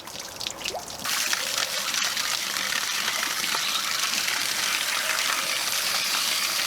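Water gushes steadily out of an RV holding-tank hose during a flush, a loud, continuous splashing rush that swells up after a quieter first second and carries on unbroken to the end.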